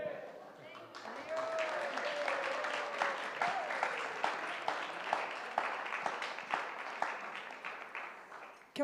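Applause after a talk at a kirtan festival in Rishikesh, a steady round of clapping from a gathered crowd, with a voice speaking briefly near the start over the clapping.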